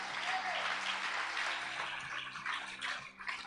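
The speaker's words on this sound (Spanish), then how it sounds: "Dale un fuerte aplauso al que vive," A church congregation claps together in a steady, dense wash of applause that stays fairly level and moderately distant for a few seconds.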